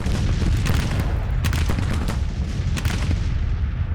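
Artillery booms and rifle gunfire in the Grand Tactician: Civil War battle, a steady dense roar of distant cannon with several sharper loud blasts standing out, no talking.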